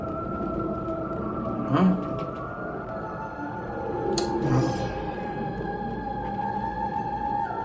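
Sirens in the God of War video game sing an eerie, sustained wailing tone that hangs over a low rumbling game ambience, with two brief louder swells, and a voice briefly speaks.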